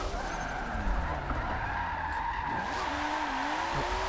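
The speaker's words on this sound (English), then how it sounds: "It is a pretty awesome sounding S15." A Nissan S15 drift car in the video game Forza 7 holds a continuous tire squeal over a steady engine drone, with the revs rising and falling as it slides, loud and unbroken with no talking.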